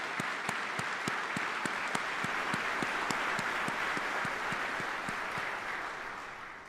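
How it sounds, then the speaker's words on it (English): Sustained audience applause at a military retirement ceremony, a dense wash of clapping with a few sharper individual claps standing out, steady and loud for several seconds before beginning to taper off. "Let's give them a round of applause."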